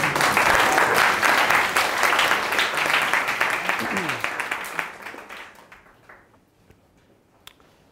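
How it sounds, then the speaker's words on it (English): Audience at a coding bootcamp demo day in Tokyo gives a dense round of applause that holds strong for several seconds, then thins to scattered claps and fades out. "How about a round of applause for everyone who's gone tonight?"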